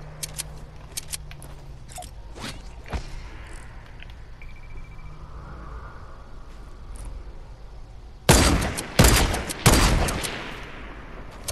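Gunfire in the video game Fortnite, with a few scattered sharp shots early on, then a loud close burst of several rapid shots near the end, with no talk.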